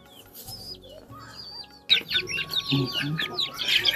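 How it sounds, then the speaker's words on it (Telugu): Chickens eating watermelon, with quiet chirps at first, then a burst of busy clucking and squawks from several birds close by along with scuffling and pecking. "మన పెద్ద కోళ్ళకి కూడా వేస్తాను, అవి కూడా చూడు ఎలా తింటాయో"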